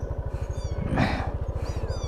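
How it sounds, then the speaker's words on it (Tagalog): A cat meows once by a bypass road, a single drawn-out cry heard over a steady rhythmic engine thrum from a passing vehicle. "May mga pusa."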